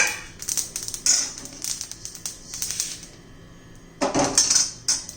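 Roasted sesame seeds for tilgul vadi are scooped out of a pan, with irregular metallic clinks and scrapes of a spoon against the pan in quick bursts and no talking.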